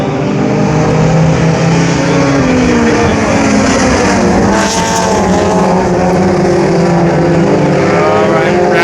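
Race cars roar around the Brownstown Speedway track during a memorial race, with loud, continuous engines rising and falling as they pass close by.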